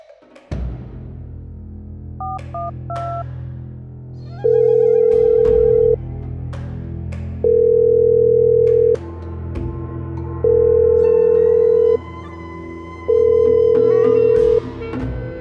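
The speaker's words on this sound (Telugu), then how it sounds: "ఎవెంజర్ గడ్డి ఫోన్ ఎత్తట్లేదు" A phone dials with a few quick tones, then a loud ringback tone repeats four times in long, evenly spaced beeps over a low hum as the call goes unanswered.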